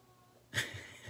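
A cat perched up high above gives a single short, faint meow near the middle, otherwise the room is quiet.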